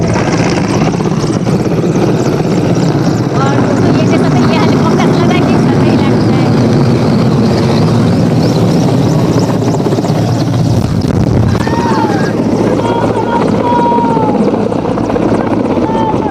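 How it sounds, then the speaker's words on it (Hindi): A loud helicopter roars close by with a heavy, steady rotor thrum and engine whine, its pitch shifting as it lands nearby at Swarved Mahamandir Dham, Umraha, Varanasi. "यहाँ पे ये हेलीकॉप्टर लैंड हो रहा है।"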